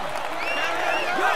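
Crowd applause greeting the yellow-jersey winner Romain Bardet at the finish of the Tour de France in a cycling video game, a steady wash of clapping with cheering and a commentator's voice over it.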